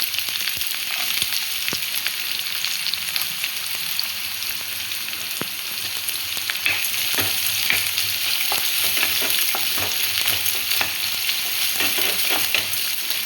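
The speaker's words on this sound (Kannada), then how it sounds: "ಒಂದು ಈರುಳ್ಳಿ ಕಟ್ ಮಾಡಿ ಹಾಕ್ಕೊಂಡಿದ್ದೀನಿ." Chopped onion frying in a pan, a steady close sizzle with occasional stirring clicks, continuous and fairly even throughout.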